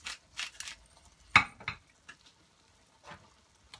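Shakshouka ingredients with chopped garlic and black pepper stirred in a hot pan: soft sizzling and scraping in short bursts, one sharper clink of a utensil against the pan, all fairly quiet with no talk.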